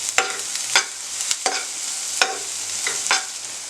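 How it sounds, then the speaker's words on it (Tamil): Onions sautéing in a pan for black chana soup: a constant hot sizzle of frying, broken by several sharp scraping knocks of a spoon stirring against the pan, close up and with no voices. "இப்போ நம்ம வெங்காயம் போட்டுக்கலாம். வெங்காயம் கொஞ்சம் வதங்கட்டும்."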